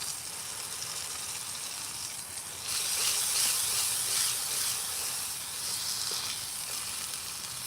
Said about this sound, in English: Just need to sear it on the sides here